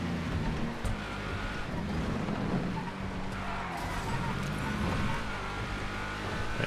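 Car engines racing in GTA FiveM, a continuous loud roar of revving motors with tonal engine whine shifting through gears and occasional passing bursts, under faint talk.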